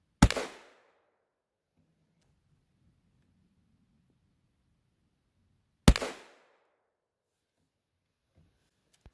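Two sharp, loud shots from a Henry X lever-action rifle in .45-70 fired at a 20-yard range, about six seconds apart, each with a short decaying echo; a faint low murmur sits between them.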